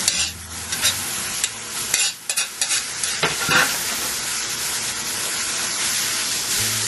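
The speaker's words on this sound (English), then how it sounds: "I went ahead and put in the onions into the ground beef mixture once it had started to brown a little bit" Ground beef browning with onions in a pan gives a steady close sizzle and frying hiss, broken by a few louder scraping stirs early on, with no voices.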